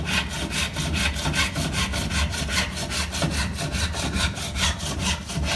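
A hand saw rasps through wood in steady back-and-forth strokes, about three per second, close and loud with no talking.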